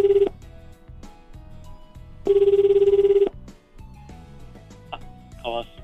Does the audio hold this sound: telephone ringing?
yes